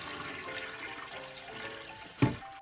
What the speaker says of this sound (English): the first time a toilet was shown flushing on camera